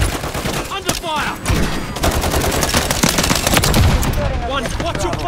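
Rapid automatic gunfire and explosions fill a Call of Duty: Modern Warfare III multiplayer match, with dense overlapping bursts running continuously at high volume.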